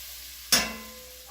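A quick stir sets off a sudden burst of hot oil and butter sizzling in a pan, loud at first and then fading into a soft crackle within a second.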